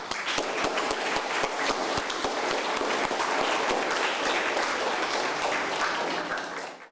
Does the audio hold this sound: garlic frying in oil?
no